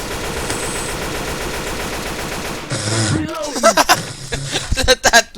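Gunfire in Left 4 Dead 2: a steady rattle of distant shooting, then close, sharp bursts of rapid shots with loud peaks, while players talk over it.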